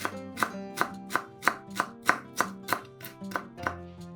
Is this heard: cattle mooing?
no